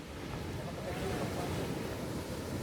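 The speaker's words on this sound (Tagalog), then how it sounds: "Ganda ng dagat." Sea waves at the Fatima beach surfing area under dark, stormy weather roll in as a continuous, dense wash of surf with wind noise, steady and fairly loud, with no voices.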